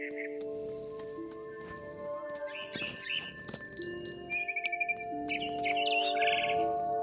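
Repeated high bird chirps and tweets from the game What Remains of Edith Finch over a steady hum of game music, with a few clicks and brief rustles; the chirping comes in bursts, fairly clear.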